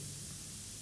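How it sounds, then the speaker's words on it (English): CO2 gas hisses steadily from a foot-pedal fibrin glue spray applicator, a short continuous broadband spray at moderate level with no pauses. "Once I press the foot pedal, the gas has started to come out."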